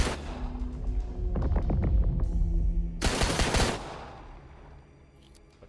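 Rapid bursts of gunfire in the Backrooms Break video game, a weapon shooting at a wall; loud clustered shots build up, then one harsh, bright blast before the sound trails off.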